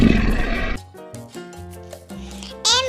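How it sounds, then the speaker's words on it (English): A lion gives one short, rough, loud roar at the very start, set over a bright backing melody that carries on after it. "L for lion."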